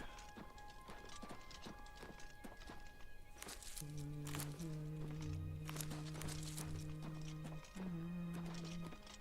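A horse in the fantasy game Oblivion clops along with steady hoofbeats, then lets out long neighs and whinnies that ring over the footfalls, close and clear with no talking.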